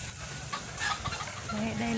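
Chickens cluck among ducks kept at a home on the outskirts of Hanoi during the Covid lockdown. The short, close, scattered clucks come under a person talking.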